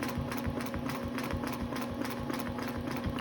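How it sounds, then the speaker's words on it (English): A sewing machine stitches quilt fabric around a ruler, running steadily with a rapid, even needle rhythm and a motor hum, close and continuous with no talk. "I'm simply going to hold on to my ruler and start stitching around the edge"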